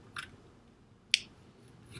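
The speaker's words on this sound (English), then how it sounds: "you take your other half of your lemon, and you're going to cut it into thin slices." A knife slicing half a lemon into thin slices makes two short, crisp cuts against a board, close and quiet, about a second apart.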